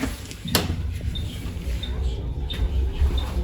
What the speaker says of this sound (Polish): To piszczenie oznacza, że kierunkowskaz jest włączony.